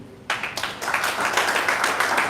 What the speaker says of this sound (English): Again, I repeat, there are uplines who touched their pockets and helped us one way or the other. Clap for them.